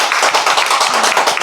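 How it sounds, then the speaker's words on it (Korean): An audience at a yoga workshop claps in welcome. The sound is loud, close and rapid, with many hands clapping at an even pace throughout. "자, 박수로 환영합시다."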